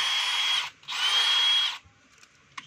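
A DeWalt DCD796 cordless drill runs in two bursts, about 0.7 and 0.9 seconds long with a brief pause between, loud and close, followed by faint handling clicks.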